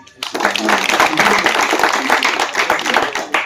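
An audience claps loudly and together, a dense run of hand claps that starts abruptly and keeps a steady rhythm, with a voice heard speaking over the start.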